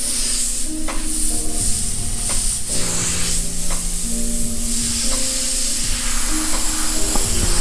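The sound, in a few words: Badger Omni 3000 airbrush spraying Createx paint at 50 psi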